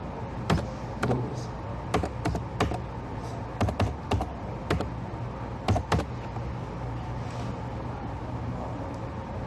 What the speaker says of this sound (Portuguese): Eu vou digitar aqui né?